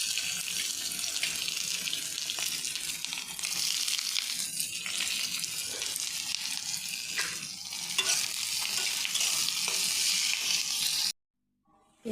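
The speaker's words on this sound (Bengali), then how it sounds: "পেঁয়াজটা আমি লাল লাল করে ভেজে নিয়েছি।" Chopped onion frying in oil with bay leaf and garam masala for Bengali ghugni, a steady loud sizzle and hiss running close for about eleven seconds before cutting to silence.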